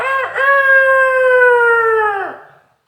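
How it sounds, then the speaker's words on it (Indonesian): A rooster gives a single loud, drawn-out crow close by, holding a strong tone before dipping and fading into silence. "Hingga akhirnya ayam pun keluar sambil berkokok ayam."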